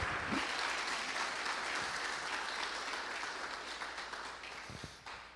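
A church congregation claps for Jesus during a service, with dense, sustained applause from a large room that fades slightly toward the end.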